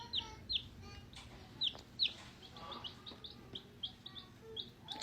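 Rhode Island Red cross chicks peep close by in short, high, repeated chirps, spaced irregularly, with soft rustling and low background noise between calls.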